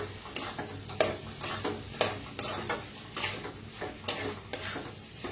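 Brinjal and potato curry with crushed peanuts being stirred in a pan, a steady run of scraping spoon strokes about once a second over a soft sizzle, close and alone.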